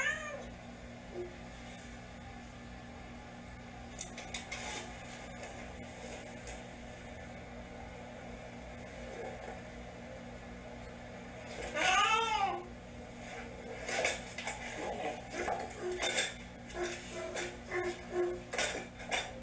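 Several cat meows ring out over steady background hum, with a clear cluster of rising-and-falling meows in the middle followed by scattered shorter calls and clatter.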